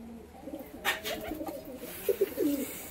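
Domestic Giribaz flying pigeons coo softly in a home loft, a few low, throaty rolling calls that come close together and are joined by faint chirps, with no talking.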